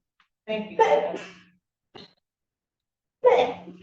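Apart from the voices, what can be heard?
sneeze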